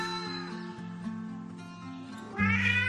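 Cats meow in drawn-out, wavering tones, one voice swelling louder near the end, close and clear with no talking.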